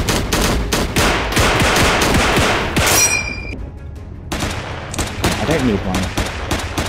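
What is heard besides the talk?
gunfire in the video game Cactus Cowboy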